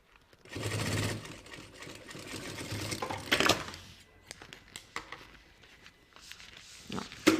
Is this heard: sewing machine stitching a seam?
yes